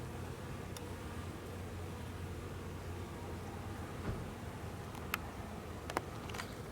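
Honey bees buzzing against the mesh of hive vent holes, a steady faint drone with a few brief sharper ticks near the end.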